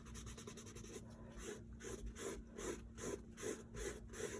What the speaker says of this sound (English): Letting that drawing come through just by rubbing it away